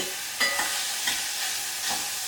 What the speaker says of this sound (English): I'm going to give that a quick stir around on the heat